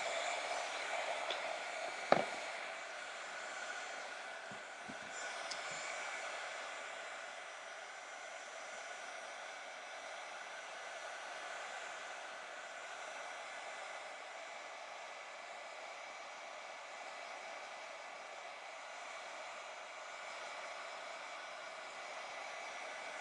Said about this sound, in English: please ask why the heat gun is on